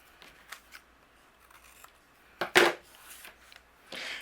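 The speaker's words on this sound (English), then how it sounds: "we're going to trim away with scissors" Scissors trim overhanging patterned paper on a Christmas card, giving a single short, crisp snip up close against near silence, with fainter paper rustles around it.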